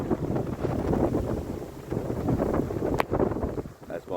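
Gusty wind buffeting the microphone outdoors beside a railway track, a rough low rumble that rises and falls, with a voice speaking underneath.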